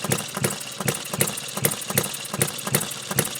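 Retrol Musa HM-01 hit-and-miss four-stroke gas engine running in hit-and-miss mode, a steady close chugging of regular firing beats roughly every 0.4 seconds over a mechanical clatter.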